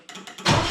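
A Saab Sonett's engine cranks briefly in a few uneven bursts, then catches and fires into a loud, steady running roar up close.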